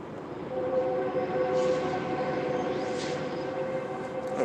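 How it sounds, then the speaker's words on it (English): A short passenger train rumbling past while its horn sounds in a long sustained blast, loud and fairly near, the steady tone holding over the clatter of the cars. "Oh, it's just ringing its horn for a long time."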